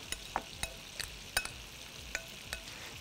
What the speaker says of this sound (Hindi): वेजिटेबल में मेयोनीज़ ऐड किया और मेयोनीज़ ऐड करने के बाद इसको अच्छी तरह से हम मिक्स कर लेंगे